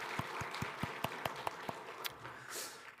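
A church congregation gives encouraging applause for its elders, a handful of distinct, fairly slow claps at a moderate distance that thin out and fade into room tone.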